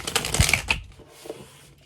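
A deck of tarot cards riffled and shuffled in a quick burst of papery flutter, then a soft tap, close and fairly loud, no talking.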